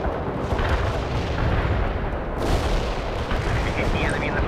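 Artillery barrage in the video game World in Conflict, a dense continuous roar of booming detonations rumbling without pause, with a voice talking faintly beneath the blasts.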